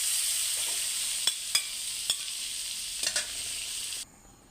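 Butter sizzles in a hot pan for restaurant-style fried rice: a steady, bright frying hiss with a few sharp pops and spatters. It cuts off abruptly near the end, leaving near silence.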